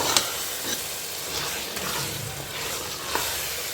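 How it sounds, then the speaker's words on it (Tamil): Chicken being sautéed with rock salt in a pan, a soft steady sizzle with occasional stirring scrapes, fairly faint and close, with no talking. "இதையும் சேர்த்து நல்லா வதக்கி வச்சுக்கலாம்."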